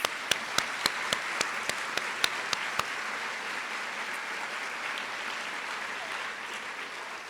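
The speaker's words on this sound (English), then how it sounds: "Let's give them one more round of applause" An audience at a school district opening session applauds Distinguished Service Award recipients, with one person's loud, evenly spaced claps standing out at first over a steady wash of crowd clapping that carries on.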